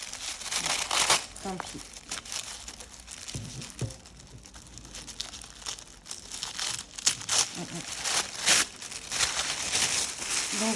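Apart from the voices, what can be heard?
tearing the packaging of a Gentle Tarot deck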